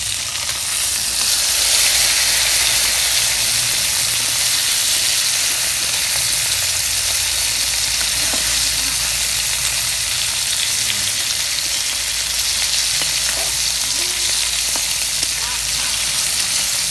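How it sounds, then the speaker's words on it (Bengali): Rohu fish, just turned over in the pan, frying loudly in oil with a dense, continuous hiss and crackle that holds steady from start to finish. "এখন আমি মাছ উল্টে দিব।"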